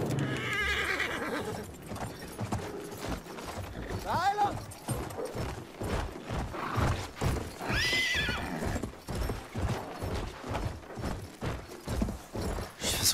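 A horse in the video game Battlefield 1 gallops with a steady, rapid clip-clop of hooves, broken by two shrill whinnies, all close and loud amid game noise.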